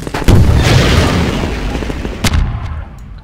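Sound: rocket explosion in the video game Half-Life 2

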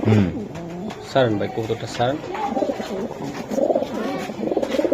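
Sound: Budapest pigeons cooing

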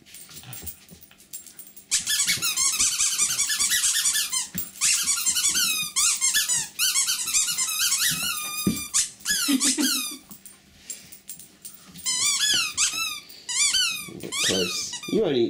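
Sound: terrier dog chewing a squeaky toy

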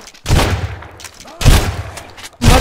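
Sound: gunfire in the video game Sunkenland

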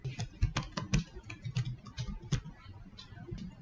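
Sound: typing a password on a computer keyboard

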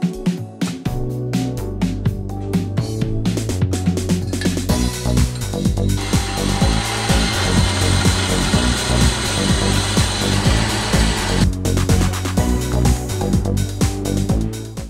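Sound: power tools working steel for a nitrous bottle frame

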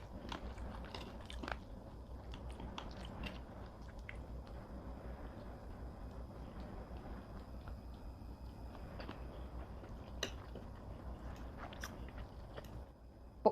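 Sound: chewing and biting food

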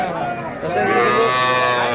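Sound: calves mooing at a cattle market

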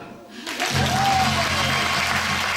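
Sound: applause

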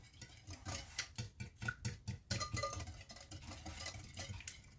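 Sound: mixing apple pie batter with a whisk

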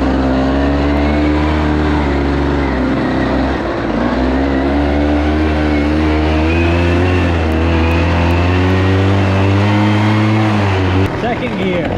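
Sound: Rokon 2x2 all-wheel-drive motorcycle driving in first gear

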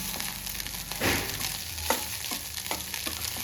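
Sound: stirring food in a hot pan

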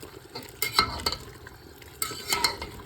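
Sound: stirring salted zirvak for plov in Afghan kazan

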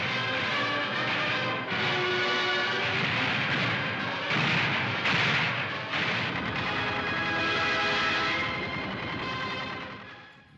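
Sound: gunshots in the streets during 1953 uprising, archival

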